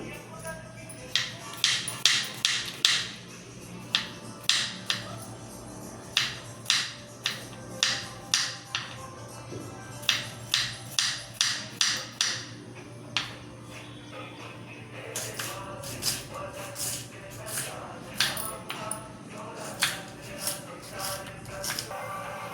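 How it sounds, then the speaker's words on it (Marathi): Garlic and chili chopped with a knife on a board, quick bursts of crisp taps in irregular clusters, close and clear, with a faint steady hum underneath. "तेल गरम होईपर्यंत लसूण आणि मिरची कापून घेते"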